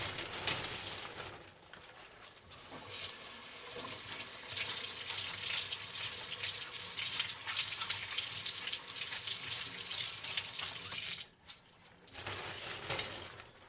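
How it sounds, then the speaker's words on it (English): Cold water is poured and splashed onto a scalp during a head shave, making a continuous close gushing and trickling sound that pauses briefly twice before resuming. "Gonna apply some cold water to you right now."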